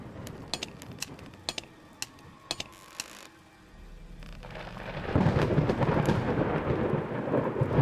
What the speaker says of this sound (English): So there's lightning striking here,